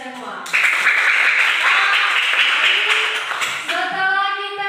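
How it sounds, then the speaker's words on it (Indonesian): Students in a classroom break into brief, close clapping after a group discussion, with the applause swelling quickly and fading within a few seconds as a teacher's voice resumes. "Tepuk tangan dulu buat kita semua."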